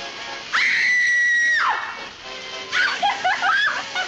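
A woman's high, sustained scream rings out for about a second in a scene from Hitchcock's Strangers on a Train, loud and piercing, followed by softer excited vocal sounds and chatter.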